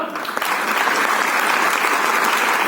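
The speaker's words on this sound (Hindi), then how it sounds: "ये तालियां थोड़ी हुई, जरा अच्छे तरह से तालियां।" A crowd applauds at a stamp release ceremony for the Paris 2024 Olympics, a steady, loud wash of many hands clapping close by that holds evenly throughout.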